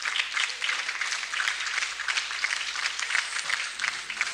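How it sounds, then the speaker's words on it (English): Audience hand clapping at a State House award ceremony, a broad crowd applauding steadily with scattered sharper individual claps standing out, continuous and moderately loud without speech. "We can walk her back with music and a louder hand clap."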